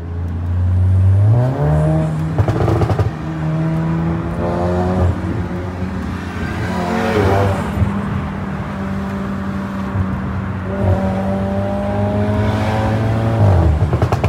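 An Audi S3 with a loud aftermarket exhaust revs repeatedly nearby, engine pitch climbing and falling in several distinct surges with a steady idle drone between them.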